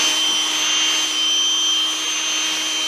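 Power drill running continuously while working on a 2011 Chevy Impala 4T60E transmission, a steady high-pitched motor whine with a constant tone, close and loud, no speech.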